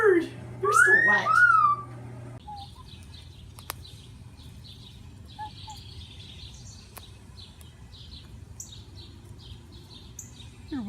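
A Moluccan cockatoo whistles in a quiet room, a few faint, short chirps and whistles scattered after a brief loud sweeping call at the start, over a low background hum.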